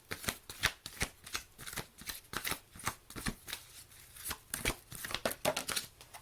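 Archangel Oracle cards are shuffled by hand, a quick run of crisp riffling slaps and flutters in uneven bursts, close and fairly quiet, with no talking.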